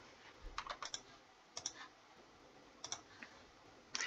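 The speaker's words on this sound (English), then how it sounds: "It's nice to be back to a very old keyboard." Typing on a very old computer keyboard: scattered bursts of quiet clicking keystrokes with pauses between, close and faint, no voices.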